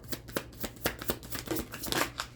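Tarot cards shuffled by hand in a quick, steady riffle, a run of soft papery flutters and taps repeating close to the listener without any talk.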